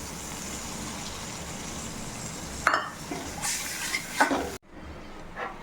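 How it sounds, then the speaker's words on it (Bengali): Mustard curry for phuli fish, made with turmeric, salt, green chillies and water, simmers in a pan with a steady soft bubbling hiss, a few faint clinks and stirring scrapes, and then stops abruptly near the end. "এই দেখুন ঝোলটা ফুটছে"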